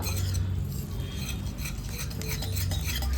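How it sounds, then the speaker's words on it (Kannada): Coconut milk being stirred into rice flour, a steady wet scraping and swishing of a spoon in a bowl with faint clinks, close and continuous with no talk. "ನೀಟಾಗಿ ಮಿಕ್ಸ್ ಮಾಡ್ಕೊಳ್ಳೋಣ ಇಲ್ಲೇನೆ ಗಂಟಿಲ್ಲದಂಗೆ ಮಿಕ್ಸ್ ಮಾಡ್ಕೋಬೇಕು"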